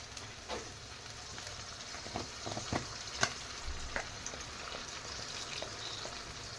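Raw jackfruit sabzi with coriander powder frying in a pan, giving a steady close sizzle with a few sharper crackles and light stirring clinks, and no voices.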